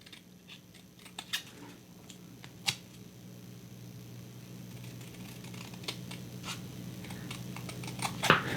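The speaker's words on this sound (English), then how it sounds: "Trim it with some scissors." Scissors trimming paper for a Rolife book nook on a workbench, a series of small crisp snips and rustles, close and fairly quiet, with a louder cluster of cuts at the end.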